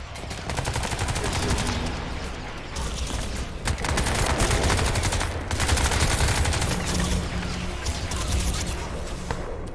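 Sustained gunfire from the video game Crysis 2: loud, dense bursts of rapid automatic shots and overlapping fusillades run nearly the whole time, with only brief dips between volleys.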